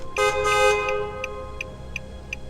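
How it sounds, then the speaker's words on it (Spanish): A car horn sounds in two quick short toots, followed by a faint, regular ticking that fades on. "Le di un par de toques al claxon."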